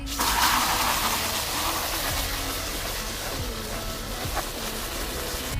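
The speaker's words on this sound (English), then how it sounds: "fill this bucket up with a little bit of soap and water" Water gushing steadily into a bucket with soap for washing a car, a continuous broadband rush at close range with no talk.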